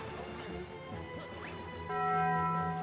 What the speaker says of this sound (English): Every time I hear that Taco Bell, the Taco Bell bong, I know that y'all are sharing